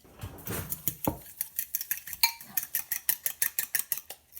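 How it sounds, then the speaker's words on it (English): A fork whisks eggs with stinging nettles and dandelion in a bowl for an omelette, giving quick, evenly spaced metallic clinks against the dish, close and clear. "Scramble that up."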